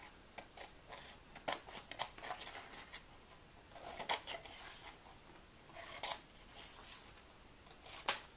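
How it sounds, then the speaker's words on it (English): Scissors snip through cardstock while trimming the edges of a 3D cupcake gift tag, giving a series of quiet, close, crisp cuts in irregular bursts with short pauses between them. "just take my scissors and cut right up to my cardstock on the rest of those edges"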